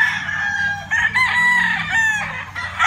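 A white Kelso gamefowl brood cock crows loud and close in one long drawn-out call, alone on a gamefarm.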